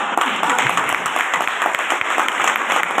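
An audience at a Safe Shop business gathering breaks into sustained applause, a dense, even roar of many hands clapping at once.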